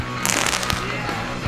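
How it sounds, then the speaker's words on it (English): Homemade launchers set off fireworks with a quick crackling burst of pops and fizzes, close and loud, followed by a couple of isolated cracks as voices talk in the background. "Let's launch some fireworks."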